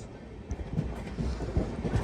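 A train creeps slowly along the outer tracks just outside Nagpur station, a faint low rumble with soft irregular thuds and clanks rising after the first half second, no voices.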